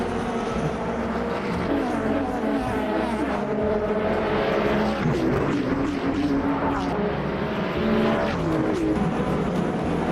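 7P2 race car engines in a racing video game, a continuous loud engine roar with shifting pitch as cars run close together, steady throughout.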